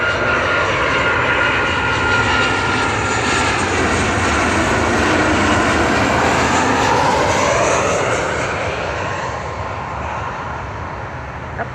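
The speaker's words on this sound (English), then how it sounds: "That plane's all the way over there." A propeller airplane passes overhead, its engine drone loud and steady for most of the clip before easing off as it moves away.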